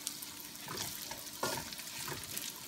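Cantonese noodles pan-fry in oil until crispy, a constant close sizzle and crackle with a few swells of spatula stirring, and no voices.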